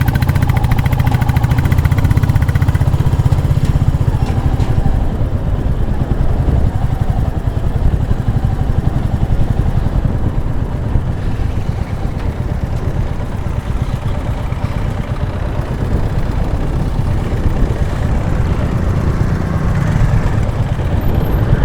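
Steady rumbling motorcycle engine at close range on a road trip near Jog Falls and a hanging bridge, droning and rattling continuously with slight shifts in pitch as the ride goes on.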